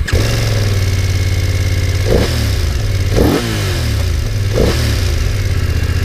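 A BMW F900XR motorcycle engine idles loudly and close, then revs sharply three times in distinct bursts that rise and fall back to a steady throb.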